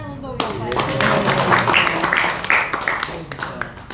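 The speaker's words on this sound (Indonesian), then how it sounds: "Tepuk tangan untuk Bapak" An audience at a school supervisors' training session claps for a man. The clapping is close and brisk, with rhythmic hand slaps over a couple of seconds, and a voice talks and murmurs underneath.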